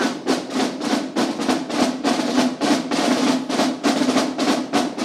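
Snare-style drums beat a brisk, steady street-march rhythm from Baena's Holy Week tradition, with clustered strokes, loud and close, played without pause.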